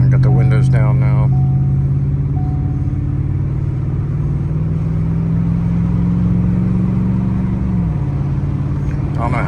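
Ford truck with a cheap WWP aftermarket exhaust pulling hard under acceleration, its loud, steady droning rumble rising slowly in pitch with windows down. Wind noise mixes in, and brief talk sits underneath at the start.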